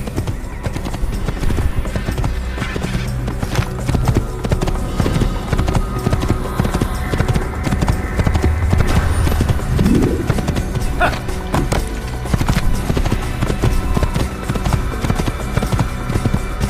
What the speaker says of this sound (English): Horses did move pretty fast in this game for me.